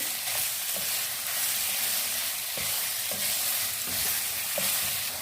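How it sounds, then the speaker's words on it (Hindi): Chicken pieces fry and sizzle in a pan for chicken jalfrezi, with a steady hiss broken by regular scrapes and stirs. "और इसको हम फ्राई करेंगे। इसका कलर चेंज होने तक हम इसको फ्राई कर लेंगे।"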